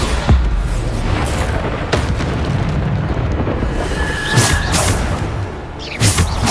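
Explosive blasts of the Bombarda spell in Hogwarts Legacy: loud booming bursts with whooshing swells, several impacts spread across a dense, rumbling combat din.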